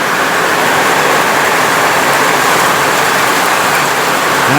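Heavy rain falls outside an open garage, a dense, steady hiss that stays loud and unbroken from start to finish with no voices.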